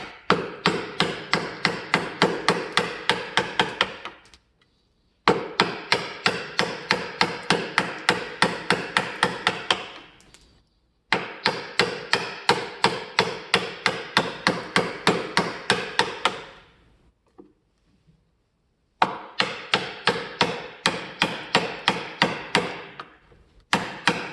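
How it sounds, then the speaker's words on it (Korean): A 500 g hammer striking repeatedly while making a wooden bow saw: loud, rapid, steady blows in four long bursts separated by short pauses, close and sharp. "현재 사용하고 있는 망치는 500g짜리입니다"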